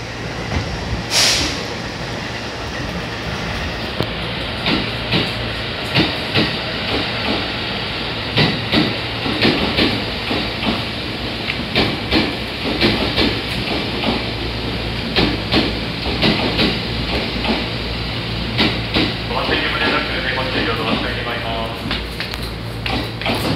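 A JR 231 series train in the old Yokosuka colour scheme pulls out of Abiko station, with a steady rumble, hissing air and repeated clanks along the platform. Station announcements sound over it.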